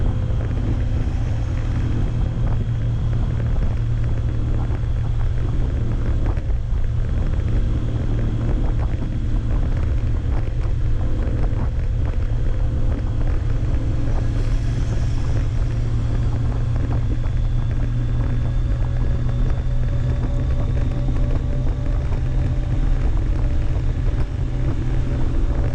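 Suzuki Intruder 1500 LC or Voyager 1200 motorcycle cruising at around 80 on the road, a steady loud low engine drone with heavy wind rush over the microphone, continuous for the whole stretch with no talk.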